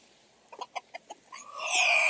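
Several soft clucks in a quick uneven series from chickens nearby, followed by a longer, louder squawking call.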